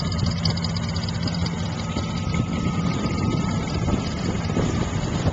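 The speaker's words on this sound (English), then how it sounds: "Here's the engine, 350 Chevy." A 350 Chevy V8 idles in a 1938 Ford tow truck, a steady low rumble running the whole time, close and fairly loud with some wind buffeting the microphone.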